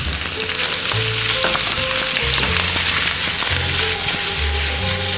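Chicken gizzards sizzle and fry loudly and steadily in a hot pan for pancit canton, with brief stirring clatter and low tonal hums over the constant crackle.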